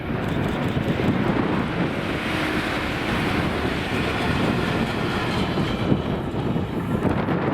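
A Class 68 locomotive, 68006, hauling a Hunterston flask train passes by as a steady rumbling roar of wagons, with strong wind buffeting the microphone throughout.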